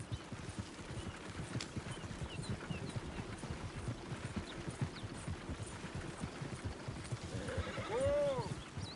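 A video-game horse gallops with a continuous rapid clip-clop of hooves, and near the end a loud neigh rises over the hoofbeats.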